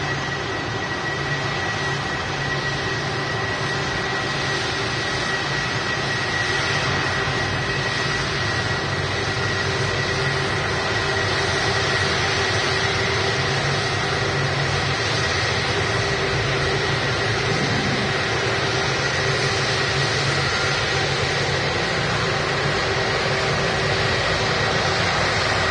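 An Airbus A380-200 jet airliner at Manchester Airport, a constant loud jet roar with a sustained engine tone running throughout, steady and unbroken with no voices.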